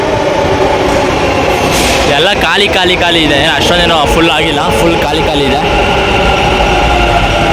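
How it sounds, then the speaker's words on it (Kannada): A Bangalore metro train approaches from the Silk Board side and rumbles past with a loud, continuous rolling roar and a brief squeal, while someone talks throughout. "ಆಪೋಸಿಟಲ್ಲಿ ಒಂದು ಮೆಟ್ರೋ ಬರ್ತಾ ಇದೆ ಆ ಕಡೆಯಿಂದ ಸಿಲ್ಕ್ ಬೋರ್ಡ್ ಸೈಡಿಂದ"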